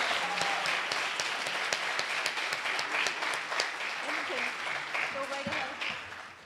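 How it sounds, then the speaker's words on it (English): Audience applause at a neighborhood poster contest award ceremony, a sustained dense wash of clapping at steady loudness throughout, with many sharp individual claps standing out and faint voices underneath. "So how about we give them another round of applause?"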